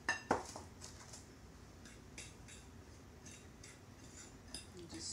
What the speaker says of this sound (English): Dump your coconut in.